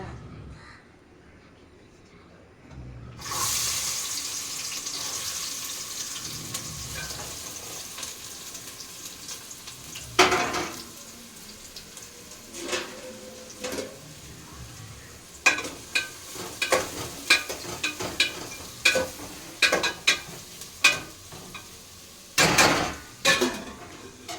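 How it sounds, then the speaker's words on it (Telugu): Garlic and ginger-garlic paste fry in a pan with a steady, moderate sizzling hiss, joined by scattered utensil clinks and crows cawing nearby in the background. "అల్లం వెల్లుల్లి పేస్ట్ కూడా వేసి పచ్చి వాసన పోయేంత వరకు వేపేసాను"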